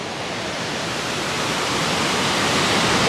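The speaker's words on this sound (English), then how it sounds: "The waterfall is so loud." A loud waterfall near rocky shores in Juneau, Alaska, roaring as a steady, dense broadband rush that fills the whole clip, close and constant with no talking.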